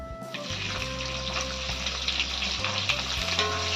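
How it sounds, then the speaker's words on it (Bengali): Chopped onion fries in a pan over a tempering of bay leaves, dried red chili and cumin seeds for a country chicken curry, giving a loud, steady close sizzle with occasional stirring over a low hum. "কেটে রাখা পেঁয়াজটা এবার ভেজে নেবো"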